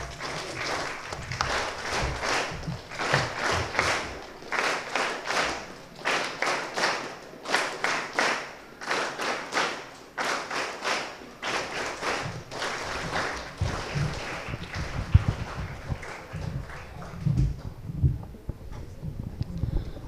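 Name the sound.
audience applause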